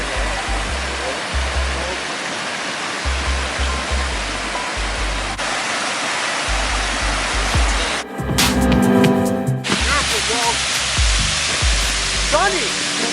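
Waterfall at Sams Point Preserve on a winter hike, a loud constant rushing roar close by, with brief voices heard over the water.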